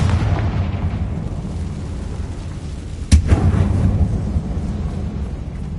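A Confringo fire spell in Hogwarts Legacy explodes with a single loud, sudden boom, leaving a brief rumbling tail over continuous low game ambience.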